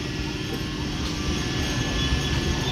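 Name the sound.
local train running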